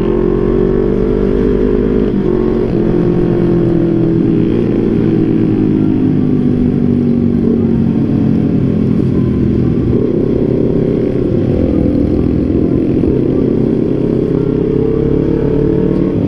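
Honda CBR 250 RR sport motorcycle ridden at night in Bogor, its engine droning loud and close throughout with shifting revs, rising and easing as the bike accelerates along the road, wind noise underneath.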